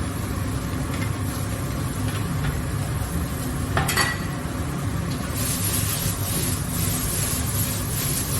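Shaved steak drops into a hot pan with softened onions for a Mongolian beef stir fry, giving a steady sizzle with utensil scrapes and a brief clatter partway through.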